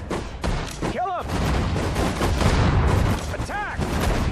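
Dense gunfire and heavy artillery booms from the World War II strategy video game Sudden Strike 4, a continuous loud battle din with bursts and whistling shells, overlaid by a voice.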